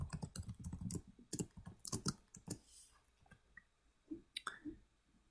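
Typing on a computer keyboard, rapid close clicking keystrokes in uneven bursts with a few pauses and scattered single taps, alone without speech.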